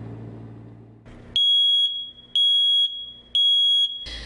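A carbon monoxide alarm inside a home, set off after snow blocked the furnace vents outside, sounds three loud, piercing electronic beeps, each about half a second long and evenly spaced, after a brief stretch of low background noise.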